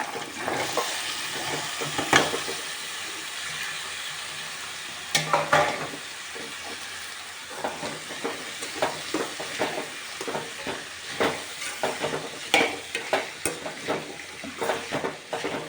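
Vegetables clatter into a pan with a sizzle while making Gujarati-style vegetable sabji, followed by repeated scraping and stirring strokes against the pan in an uneven rhythm.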